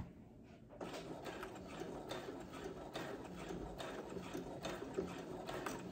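A Brother sewing machine starts up after a brief quiet moment and stitches steadily, its rapid needle clatter pulsing in a regular rhythm, close and continuous.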